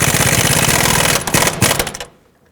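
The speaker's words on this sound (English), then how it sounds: "make it a little extra tight with my air gun" Pneumatic air impact gun hammering a sway bar link nut tight on a 2001-2007 Toyota Highlander, a loud continuous rattling burst followed by a few shorter stuttering blasts before cutting off.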